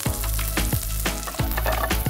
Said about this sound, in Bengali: একটু ভাজা ভাজা হয়ে যাচ্ছে